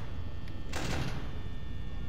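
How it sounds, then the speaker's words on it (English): A door in a horror video game slides shut with a single heavy thud, heard close against a low background hum. "I'm just gonna close the door."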